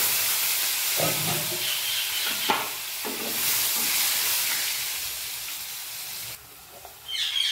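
Steady sizzling and hissing of cut potatoes frying in hot oil, with occasional stirring clatters, close up and continuous throughout.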